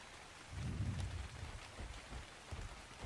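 Steady rain falls in the video game Ark, a soft, even wash of patter that swells briefly with a low rumble near the start, then settles into a constant hiss with no one talking.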